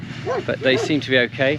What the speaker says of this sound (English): The sound you can hear there of the dogs, they're the guard dogs